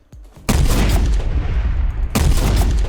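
A modded gun in the survival video game Unturned fires in rapid, loud bursts, two dense volleys of shots close up with a brief pause between them.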